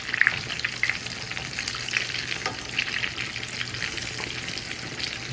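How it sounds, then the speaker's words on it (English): Eggplant slices for eggplant parmesan fry in a hot pan, giving a steady, close, crackling sizzle with a few brighter pops and no voices. "we'll let those fry until they get brown on the underside"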